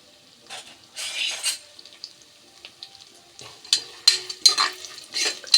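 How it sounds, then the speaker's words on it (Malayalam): Coconut pieces sizzle in a pan with a few loud bursts of spatter and scraping stirs of a spoon against the metal, close by with no talk. "നമുക്ക് തേങ്ങ തേങ്ങാക്കൊത്തിടാം"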